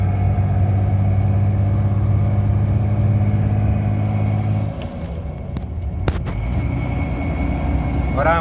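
A truck engine idling and running while driving, a steady low rumble with a persistent hum that shifts in tone partway through, close and loud, with a few knocks and clicks near the end.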